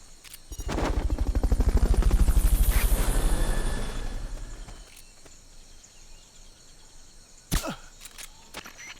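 A Fulton recovery helicopter in Metal Gear Solid Peace Walker rushes in loud and near with a rapid rotor chop that swells and fades over several seconds, followed by a few sharp cracks.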